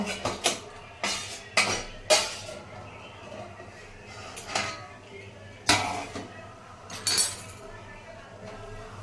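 Metal cooking pot clanking on the stove while steamed puli pitha is made, several sharp clinks and knocks scattered irregularly, fairly close, with faint background hum.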